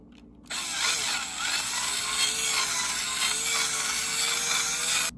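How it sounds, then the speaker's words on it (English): A drill boring out the rivet of a die-cast Hot Wheels car: a close, steady grinding whine that starts abruptly and runs without pause for several seconds before cutting off. "And we'll get this one drilled out, and then we can look inside it."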